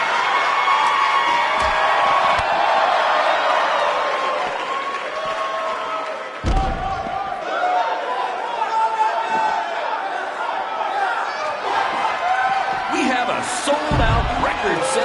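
Sold-out arena crowd in the WWE 2K19 wrestling game, a loud sustained roar of cheering, whoops and chatter with bursts of louder reaction, while voices talk over it.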